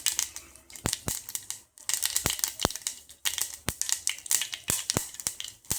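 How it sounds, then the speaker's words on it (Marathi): Mustard seeds popping in hot oil while tempering kadhi, sharp irregular crackles and snaps over a sizzling hiss, close and lively with no speech. "मोहरी चांगली तडतुडं द्यायची तरच चांगली लागते"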